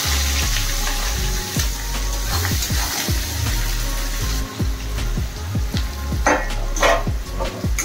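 Chopped onions fry in hot white oil in a wok, a loud, continuous sizzle broken by repeated scraping and stirring strokes and occasional clinks of the spatula, with no one talking.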